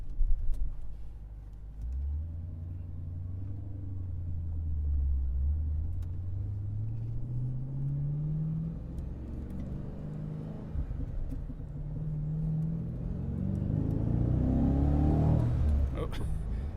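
A supercharged Dodge Challenger SRT idles and revs as it rolls over a loose-gravel parking lot, its engine droning low and steady with a rise toward the end. Stones occasionally tick against the undercarriage beneath the engine noise.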